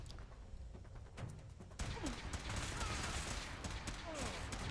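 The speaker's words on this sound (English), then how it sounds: "Nice, you shot him in the back." Gunfire in the Fallout 4 video game, a rapid volley of cracking shots that starts quietly and then turns into a dense, loud burst, with game sounds and faint voices underneath.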